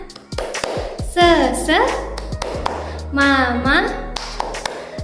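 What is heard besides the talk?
class clapping a cheer-clap routine (tepuk semangat)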